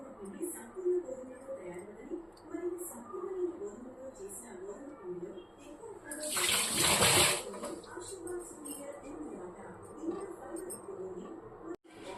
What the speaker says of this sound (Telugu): నీట్గా కడిగి పెట్టుకున్నాను నేను